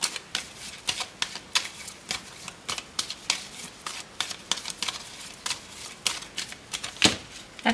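Tarot or Lenormand cards are shuffled by hand in a quiet room, a string of quick, crisp riffling bursts and soft slaps in an irregular rhythm, close and fairly faint, with no talking.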